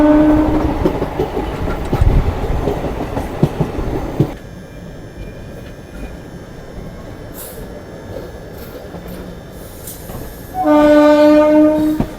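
A train's horn blares loudly in long tonal blasts near the end, after a stretch of rumbling wheels and rail clatter as the 19119 Gandhinagar Intercity Express pulls away from Keshod railway station.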